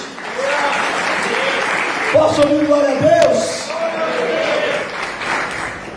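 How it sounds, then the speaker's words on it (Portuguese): Church congregation applauding during a Portuguese-language sermon, a steady wash of clapping that rises briefly in the middle, with a preacher's voice speaking over it throughout. "Digo amém e aplaudo esse Deus aí, gente."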